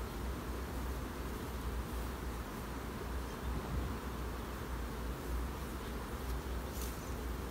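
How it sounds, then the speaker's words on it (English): Honeybees in a strong hive colony hum in a dense, continuous drone, steady and close without pause, no voices over it. "We've got a good strong population of bees in that colony"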